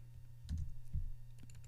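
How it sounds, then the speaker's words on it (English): A handful of keystrokes tapped on a computer keyboard, quiet and close, in two small bursts with a few lighter taps after, with no voices. "I'm just typing in words."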